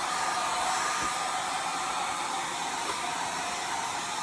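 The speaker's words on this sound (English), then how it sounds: "I'm going to take my hair dryer, and I am going to dry this" A hair dryer blowing on freshly painted craft work for a farmhouse shelf sitter, a steady unbroken whooshing hum held at close range with no talk.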